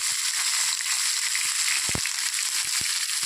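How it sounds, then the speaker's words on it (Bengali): Pointed gourd (potol) frying in white oil with a pinch of turmeric, giving a steady loud sizzle throughout with a few soft crackles and pops; no one speaks. "এই সাদা তেলের মধ্যে আমি পটলগুলোকে একটু ভেজে নেব দিয়ে দিচ্ছি পটল"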